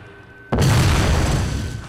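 A deep, loud explosion booms in the video game Jak 2, bursting suddenly after a brief quiet lead-in and sustaining a broad, rumbling roar that slowly fades, with no voices over it.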